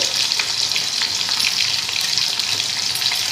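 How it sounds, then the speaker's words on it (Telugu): Sliced ivy gourd fries in a pan of hot oil, a dense, steady sizzle heard close up and fairly loud, with faint crackles and no talking. "ఇప్పుడు మనం దొండకాయలు పొడుగ్గా ఇలా కట్ చేసుకునేవి ఇందులో వేయాలి ఫ్రై చేసుకోవాలి"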